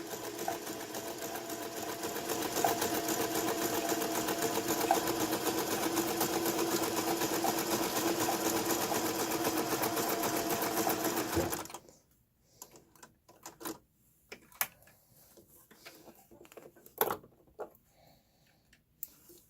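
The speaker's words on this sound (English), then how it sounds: "So I'm just going to keep my presser foot kind of along the edge, let it guide me where I'm going." A sewing machine runs a zigzag seam finish along a fabric edge, a loud continuous rapid whirring hum that stops abruptly about two-thirds through, followed by quiet fabric handling and scattered small clicks.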